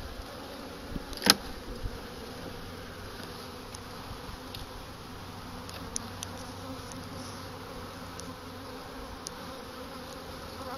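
Honeybees at an apiary hive during a late-winter check give a steady, soft hum throughout, with a few brief louder clicks and a sharp knock near the start, and no talking.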